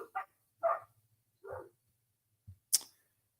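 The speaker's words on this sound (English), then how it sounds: "My dogs are so annoying." Dogs bark indoors in a few short, sharp bursts spread across a few seconds. The barks are fairly faint, with quiet gaps between them and a brief click near the end.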